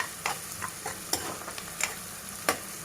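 Chicken kheema with onions frying in a pan, a constant sizzle broken by repeated sharp scrapes and taps of a spoon stirring, close and fairly loud, no voices.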